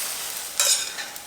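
Sauce reducing in a pan on the stove, a soft steady sizzle with a brief louder hiss of frying partway through, close and without talk.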